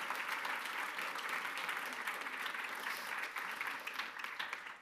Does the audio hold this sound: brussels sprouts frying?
no